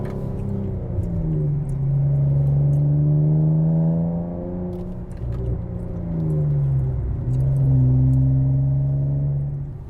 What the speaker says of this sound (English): Man, this exhaust sounds so good.